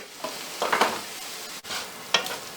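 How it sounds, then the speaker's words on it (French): Peeled fava beans go into a hot pan and sizzle loudly, with stirring scrapes and a steady frying hiss broken by bursts of crackle, close up and without any voice. "Je viens ajouter mes fèves pelées"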